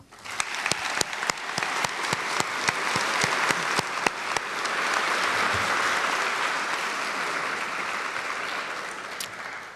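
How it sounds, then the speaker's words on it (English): An audience at a high school graduation ceremony applauds, starting with scattered sharp claps that swell into steady, loud, sustained clapping filling the hall for nearly ten seconds. "Please join me in recognizing the students receiving Latin honors with a round of applause."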